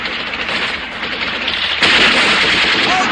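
Rapid bursts of gunfire ring out in a film shootout, loud and continuous like automatic weapons, with an even heavier volley partway through and no talking over it.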